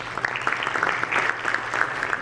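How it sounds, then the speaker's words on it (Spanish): Sustained audience applause welcoming someone speaker at a university communication conference in Guayaquil, a dense steady clatter of many hands lasting the whole stretch. "Recibamos con un fuerte aplauso a la doctora Preciado."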